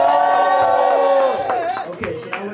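Live concert crowd cheering and shouting at a hip-hop performance, a loud sustained roar of voices with whoops that breaks into scattered yells and claps.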